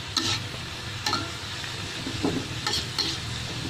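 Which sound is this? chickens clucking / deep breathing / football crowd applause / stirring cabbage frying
stirring cabbage frying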